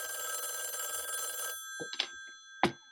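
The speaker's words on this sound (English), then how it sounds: "Phone rings." An old-style telephone bell rings in a steady electric trill for about a second and a half, then stops, followed by a few faint clicks and a louder handset clatter; no voices.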